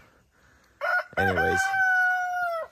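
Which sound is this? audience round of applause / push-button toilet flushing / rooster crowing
rooster crowing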